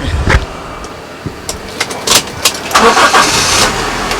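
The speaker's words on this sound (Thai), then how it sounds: "เดี๋ยวผมจะสตาร์ทให้ดูนะฮะ" A Toyota Vios 1.6 automatic car engine cranks and starts up nearby, with a burst of starter noise followed by the engine catching and settling, alongside small clicks and rattles.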